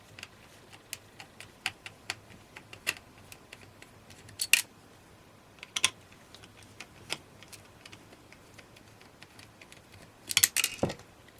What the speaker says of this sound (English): What we need to do is slacken those screws off.